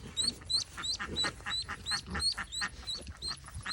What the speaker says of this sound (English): There's a baby duck.